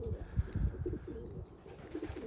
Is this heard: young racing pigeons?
yes